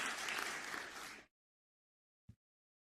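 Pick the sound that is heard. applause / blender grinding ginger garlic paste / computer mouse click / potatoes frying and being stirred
applause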